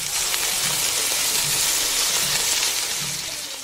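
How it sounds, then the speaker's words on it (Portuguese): A pan on a stovetop sizzles as local Eritrean food fries, a close, dense crackling hiss that holds steady throughout with faint stirring pulses underneath. "se você escutou esse barulho aí de panela no fogo"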